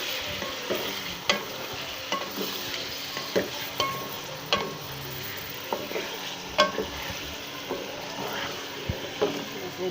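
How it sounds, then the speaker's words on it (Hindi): Chicken pieces fry in a pan for a spicy qorma, a steady close sizzle broken by regular scrapes and taps from a stirring spoon, with no voices over it. "चिकन फ्राई करें। जब तक ये थोड़ा सा ब्राउन हो जाए"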